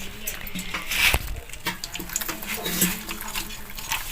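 Tap water runs and splashes while fish are cleaned in a sink, irregular close splashes and clatter with a faint voice in the background.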